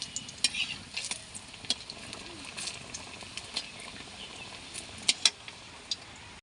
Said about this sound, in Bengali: এটা খুব হালকা জালে ভাজতে হবে যাতে ডিমের ভিতরের পুরটা ভালোভাবে সেদ্ধ হয়ে যায়